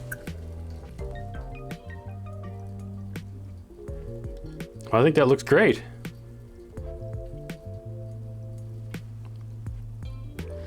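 Liquid runs from a fridge tap kit into a glass in a short splashing, gurgling burst near the middle, under a steady mechanical hum, with someone talking briefly.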